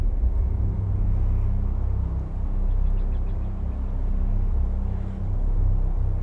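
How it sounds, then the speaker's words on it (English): A pyroclastic flow pours down Sinabung volcano, a deep, steady, continuous rumble heavy in the low end that stays loud and unbroken throughout. "suddenly witnessing the most fearsome of all volcanic phenomena. The pyroclastic flow"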